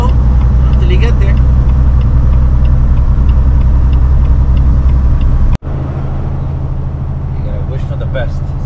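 A car drives slowly through a snow storm, its engine and road noise a steady loud rumble throughout, briefly cut by a sharp click near the middle.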